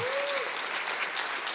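Congregation in a church service clapping in dense, sustained applause, fairly loud and even throughout, with a brief tonal note sliding in near the start.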